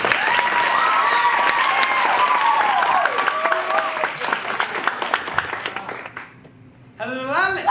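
A theatre audience breaks into lively applause, dense clapping that runs for several seconds and thins out. A performer's raised voice carries over it, and a second voice speaks briefly once the clapping stops.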